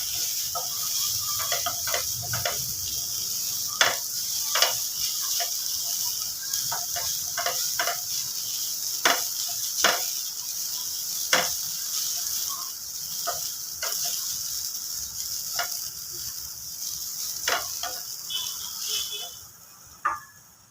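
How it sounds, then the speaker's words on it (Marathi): Grated coconut dry-roasting in a pan for mango coconut laddu, with a spatula scraping and tapping the pan in irregular, fairly close strokes over a steady faint background hiss. "सगळं छान असं एकसारखं भाजून घ्यायचं आहे खोबरं."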